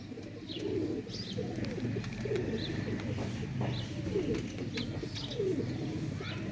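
Sialkoti roof pigeons coo in soft, repeated low calls, several birds overlapping at close range, with faint chirps and a steady background murmur.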